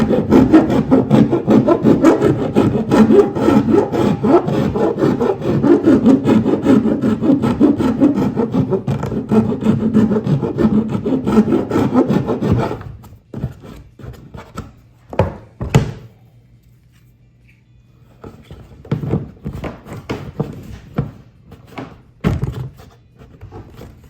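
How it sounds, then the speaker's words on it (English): A metal hand file deburring a fresh cut on a Nucanoe Flint kayak during a trolling motor install, with steady rasping strokes for about thirteen seconds, close and loud, then quieter scattered knocks and scrapes. "I got my files. Do a little deburring,"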